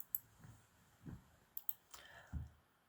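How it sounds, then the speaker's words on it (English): A few sharp mouse clicks on a website sign-up button, with faint low thumps between them in an otherwise quiet room. "Here you can see sign up button in a corner. Click on it"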